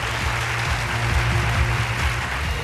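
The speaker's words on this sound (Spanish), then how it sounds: "Un aplauso grande para recibirlo." Steady, dense applause from a large audience at the Premio Abanderados 2017 awards ceremony, filling the whole stretch at an even level with no voices on top.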